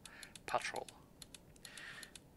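Computer keys click in quick bursts, a cluster of rapid presses followed by a few scattered taps, with a brief murmured voice partway through.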